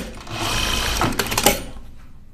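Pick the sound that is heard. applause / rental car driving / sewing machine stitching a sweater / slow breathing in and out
sewing machine stitching a sweater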